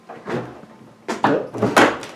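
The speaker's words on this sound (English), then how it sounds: "Latches and locks if you want to." A restored vintage door lock latches with a few short, close mechanical clunks and clicks, the loudest cluster coming in the second half.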